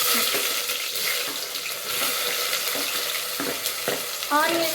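Onion frying in oil for sambar, a loud, steady hiss of sizzling with stirring, close up and continuous, with no voices.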